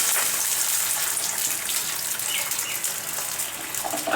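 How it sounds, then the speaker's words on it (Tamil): Water from a tumbler poured into a pan of frying potatoes, giving a steady close hiss and splash that holds evenly for a few seconds with no talk. "இப்போ இதில் 1 டம்ளர் தண்ணி விட்டுடலாம்."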